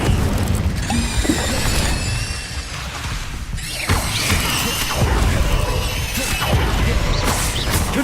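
A Confringo spell blast in Hogwarts Legacy erupts with booming, crashing bursts, a couple of heavy impacts amid rumbling debris and a short shouted voice, fairly loud throughout.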